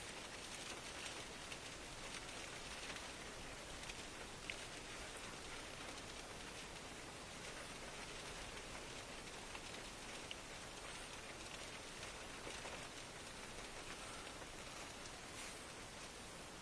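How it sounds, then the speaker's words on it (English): Rain falling during a July thunderstorm on a storm chase, a steady, faint patter of drops striking surfaces with no letup, heard from a distance without any talk. "It's raining."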